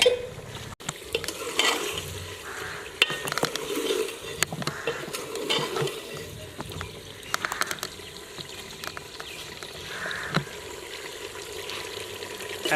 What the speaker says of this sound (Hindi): ऑयल शामिल करने के बाद बीफ को अच्छे तरीके से भून लेना है।